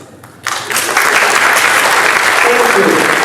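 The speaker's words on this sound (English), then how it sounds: "Warm round of applause to all of you." A crowd bursts into steady, dense applause that swells quickly after a brief quiet start and holds at full strength throughout, with faint voices mixed beneath the clapping.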